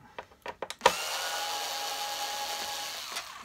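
Power screwdriver or drill loosening screws on a Hoover Turbo Power UB088 vacuum during disassembly: a few short clicks and bursts, then a steady close whirring run of about two and a half seconds.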